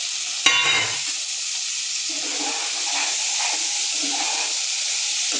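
Chickpeas and potatoes are stirred through fried spice paste in a pan, giving a steady, close sizzle and hiss with soft scraping throughout and a brief clatter at the start.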